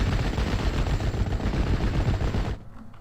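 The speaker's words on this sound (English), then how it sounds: "I also like how they modeled coaxial machine guns in this game" Sustained coaxial machine gun fire from a tank in the WWII strategy game Steel Division: Normandy 44, a loud continuous rattling stream of rounds that cuts off abruptly near the end, leaving quiet.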